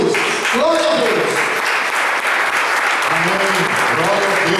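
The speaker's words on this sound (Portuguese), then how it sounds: "Vamos receber o servo do Senhor com uma grande salva de palmas para Jesus." A church congregation breaks into loud, sustained applause during a worship service, dense clapping filling the room with scattered voices calling out over it.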